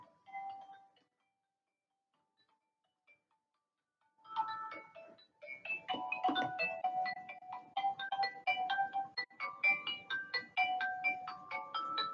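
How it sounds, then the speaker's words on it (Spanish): A melodic electronic phone ringtone plays in repeated tuneful bursts after a short quiet gap, moderately loud and close, with no one speaking. "Vamos a apagar este teléfono porque el teléfono molesta mucho"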